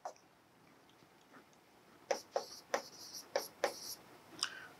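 A teacher writes math on a board during a lesson, with a handful of quiet, sharp taps and scratches clustered near the end after a near-silent start.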